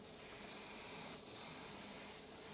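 Airbrush with a huge fan pattern spraying high gloss clear coat, giving a steady, close, even hiss that runs unbroken for a few seconds with no talking.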